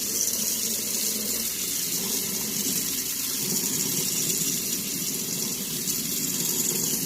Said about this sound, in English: I go and I rinse out my syringe so I can put the other solution in there